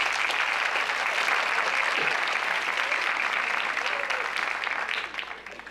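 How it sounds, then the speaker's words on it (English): An audience at a school academic awards ceremony applauds in a full, steady round of clapping that fades out toward the end. "Can we give them one more round of applause?"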